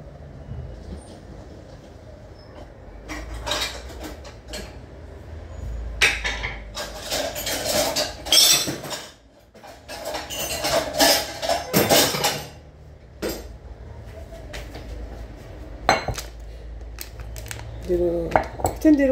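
Metal pots and pans clatter and clink in a home kitchen while almonds are boiled for baklava, with sharp irregular bursts of knocking and scraping, some louder close-up clangs and quieter gaps between.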